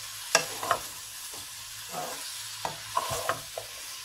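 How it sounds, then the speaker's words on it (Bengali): Vegetables stirred in a hot pan with soy sauce while cooking a restaurant-style Bangladeshi Chinese vegetable dish, scattered scraping stirs over a soft continuous sizzle. "একটু নেড়ে নিলাম"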